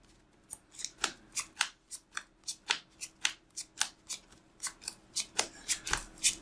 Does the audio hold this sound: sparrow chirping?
no